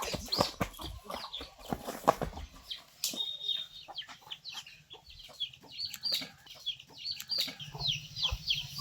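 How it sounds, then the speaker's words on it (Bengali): Desi village chickens clucking inside a closed enclosure, with repeated nearby clucks and calls plus brief wing flaps and rustling, fairly loud against a low background hum. "যে দেখতে পাচ্ছ এর ভেতরেই আছে মুরগি"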